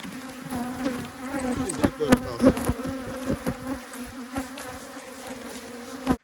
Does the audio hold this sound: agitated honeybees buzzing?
yes